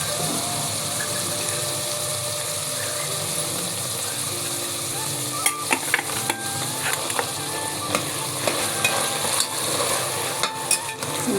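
Masala frying in hot oil for an avarekalu curry, a steady close sizzle with occasional scraping stirs and clinks of a utensil against the pan.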